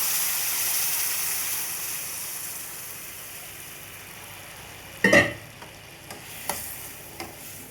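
Sugar syrup poured into halwa frying in a pan, giving a steady sizzling hiss that bursts louder and stirs briefly as the syrup hits, then settles into scattered spitting crackles.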